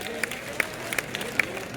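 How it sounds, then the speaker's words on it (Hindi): A handful of scattered, separate hand claps from a late-night mushaira audience honouring the poet Imran Pratapgarhi, sparse and moderately near, with a faint murmur of voices underneath. "इमरान प्रतापगढ़ी साहब के लिए एक बार तालियां बजा दीजिए ताकि ये शुरू हो जाए"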